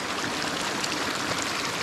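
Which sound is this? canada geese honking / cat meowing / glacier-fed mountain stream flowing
glacier-fed mountain stream flowing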